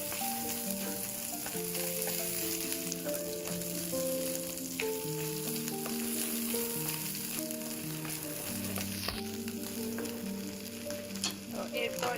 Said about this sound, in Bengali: প্রথমে আমি চেপা মাছগুলোকে হালকা ভেজে নিচ্ছি